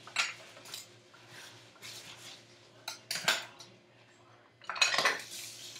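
Pickles being packed into a fermenting container alongside lemon juice, giving scattered clinks and knocks of utensils against dishware, with a louder burst of clattering near the end and no talk.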